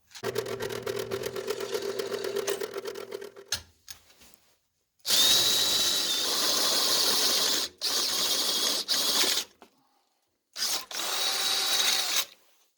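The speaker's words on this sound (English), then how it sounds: "I'm going to drill 2 3/4 inch holes with a center pivot point" A power drill boring 2 3/4 inch holes with a centre pivot point into the steel of an ammo can for a wood stove damper; several loud, close bursts of whining drilling separated by short pauses.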